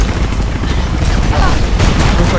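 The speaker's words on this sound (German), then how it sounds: "Jetzt haben wir wieder feuernde Bullen im Nacken." Dense, continuous bursts of police gunfire in the video game Mirror's Edge rattle and boom throughout, with rapid shots layered over a noisy background and no talking.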